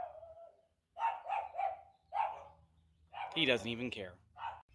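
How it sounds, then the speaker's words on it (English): Several dogs bark in bursts from close by at a home garage where a 2015 Dodge Challenger 5.7 is under repair, the barks alternating with someone speaking over them. "those dogs won't stop barking"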